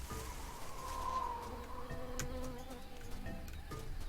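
Bee buzzing in a noisy jungle scene of the Tales of Monkey Island video game, a steady insect drone with a faint tonal whine, soft and continuous over quiet ambience.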